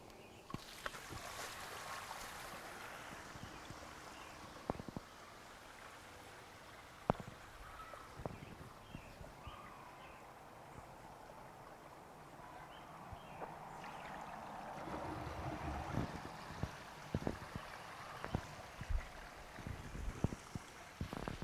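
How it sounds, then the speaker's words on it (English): Rinse water drains from an RV black tank through a clear tank-flushing setup, a soft continuous pouring and gurgling flow with occasional knocks and splashes, quiet and steady, growing slightly busier toward the end. "So I'm going to dump it again, because what we've got here now, basically, this is my second rinse, third dumping with this tank."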